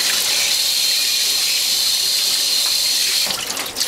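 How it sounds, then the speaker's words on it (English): Tap water gushes steadily from a faucet to rinse a Norwalk model 235 juicer, a loud continuous hiss and splash that runs close-up and alone, easing slightly near the end. "and all you do is rinse it with water."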